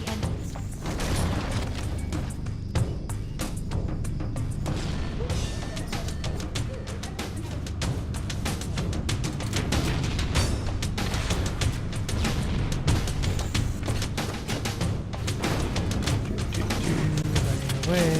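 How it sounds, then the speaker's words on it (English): Fusion reactor engines blow up in Halo CE, producing a long, loud rolling barrage of booming detonations and crackling debris. The rumble is dense and continuous throughout and keeps building toward the end. "explosion of the engines"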